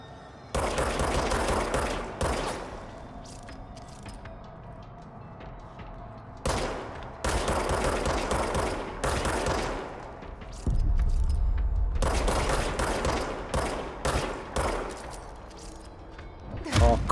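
Bursts of rapid automatic gunfire in the video game Control, several loud sustained volleys separated by quieter gaps with low rumble, close and dense.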